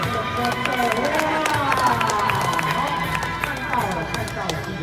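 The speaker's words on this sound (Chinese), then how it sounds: "掌声那么多" A crowd at the Chinatown Garden Bridge in Singapore applauds and cheers, a busy wash of clapping and voices with chatter mixed in, fairly near and sustained.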